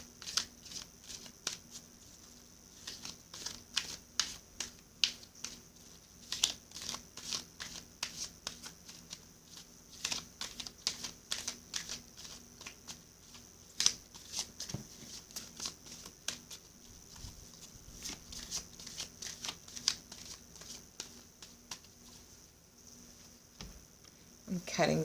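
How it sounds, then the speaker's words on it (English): An oracle card deck being cut and shuffled, giving a long run of soft, quick card snaps and riffles in irregular bursts, close and fairly quiet, with a voice speaking over parts of it. "I'm cutting this deck for you as well."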